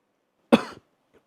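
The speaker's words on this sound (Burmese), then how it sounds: "ချောင်းနေတအားစိုးနေတယ်" A single short, sharp cough bursts out close by, followed by a faint trailing breath, with silence around it.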